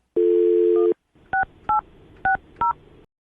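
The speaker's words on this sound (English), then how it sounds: "I'm going to dial her phone number right now, get her on the phone" A steady telephone dial tone holds for under a second and then cuts off, followed by four separate keypad beeps as a phone number is dialed. The beeps come at an even pace, with no voices.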